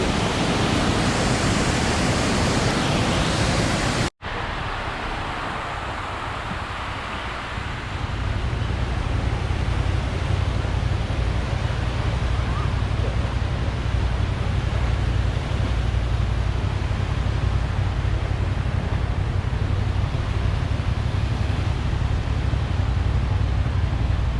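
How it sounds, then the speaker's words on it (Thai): Coo waterfall in southern Belgium, water rushing down in a steady, loud broadband roar that fills the scene throughout, briefly cut off once near the start before resuming at full strength. "กลายเป็นน้ำตกไป ชื่อว่าน้ำตกคู"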